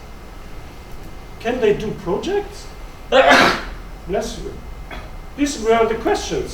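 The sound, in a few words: sneeze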